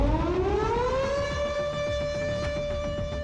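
An air raid siren in Ukraine winds up in pitch over the first second, then holds a loud steady wail to the end, with no voices.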